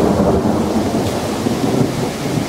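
Rolling thunder from a severe thunderstorm near Sallisaw, Oklahoma, rumbles loudly and continuously with steady rain, no voices, a dense low roar throughout.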